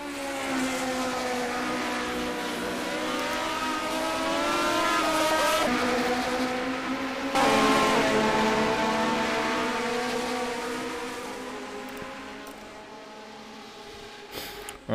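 A Formula 1979 race car engine in the rFactor 2 racing game at the Österreichring, screaming at high revs near 11,000 RPM with rising and falling pitch through gear changes, loud and continuous without talk.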